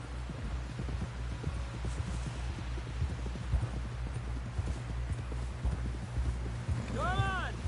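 Horse hooves clip-clopping steadily in the video game Red Dead Redemption 2 as a rider heads toward a camp, a close rhythmic trot under a low throbbing backdrop, with a horse's whinny near the end.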